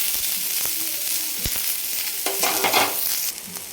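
Onion frying in a little oil in a pan, a steady close sizzle with occasional stirring scrapes and clicks, no voices.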